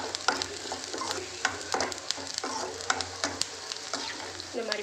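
Onions sautéing in a pan for an eggplant thokku, with steady close sizzling and frequent scraping stirs of a spoon against the pan, no talk.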